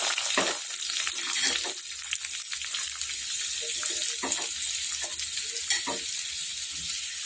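Thinly sliced onions frying in a pan with spices for a raw banana curry, giving a constant close hiss of sizzling oil broken by several short stirring scrapes.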